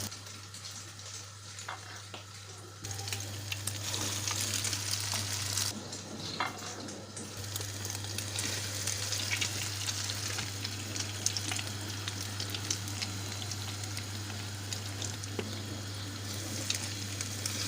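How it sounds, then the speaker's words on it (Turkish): Slices of bread dipped in egg mixture being fried in hot olive oil, a constant crackling sizzle that jumps louder as they are laid in and then keeps bubbling steadily, with a low hum underneath. "Ve kızdırmış olduğumuz zeytinyağımızın içerisine koyuyoruz arkadaşlar."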